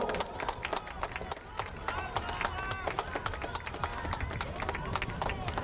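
A crowd at an outdoor Busan election rally claps and cheers for a member of parliament, with bright sharp claps spread through the whole stretch and voices mixed in under them.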